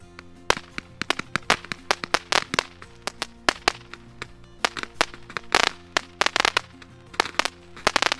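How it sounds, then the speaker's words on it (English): A 180-shot bottle rocket firework barrage crackles off in Texas, loud sharp pops and whistling bursts firing in rapid irregular clusters nearby, with brief gaps between volleys. "lighting the machine gun, which is a 180 bottle rocket"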